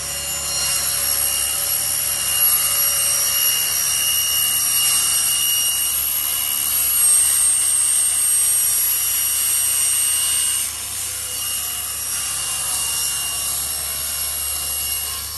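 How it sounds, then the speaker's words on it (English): A table saw cuts a slot in a wood workpiece guided by the fence, giving a steady, close, high whining drone that runs continuously with a slight dip near the end. "there are many ways to cut this slot, but I like to use the table saw"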